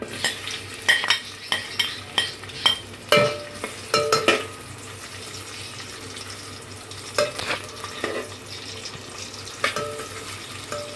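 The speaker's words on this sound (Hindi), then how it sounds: "प्याज को हमने उतनी देर तक पकाना है जब तक कि ये रंग बदल जाए और ब्राउन हो जाए" Chopped onions frying in hot oil over medium heat for matar pulao, a low sizzle under a run of quick metal spoon scrapes and clinks against the pot, then quieter frying with occasional stirs; no voices.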